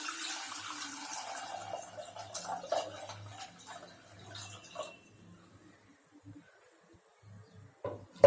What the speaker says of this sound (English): Pour water into it.